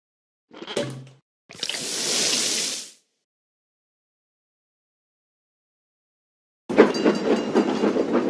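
Train rolling on rails in a Florence-set video game, heard as a short burst, then a longer hissing rush, a long silence, and a louder rattling passage at the end; no voices.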